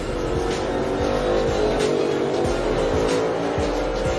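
NASCAR Cup Series race cars roar continuously at full throttle during a multi-car crash between turns 19 and 20 on the first lap, a dense engine drone with repeated thumps and scrapes throughout.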